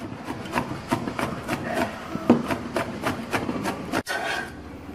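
A knife chops garlic for a nộm rau tiến vua salad with shrimp and pork, making quick, evenly spaced close taps against a cutting board that run steadily, then stop abruptly near the end.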